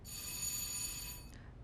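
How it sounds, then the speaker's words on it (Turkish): A bright electronic doorbell rings steadily for over a second with a sustained metallic tone, then cuts off abruptly. "Zil çalıyor."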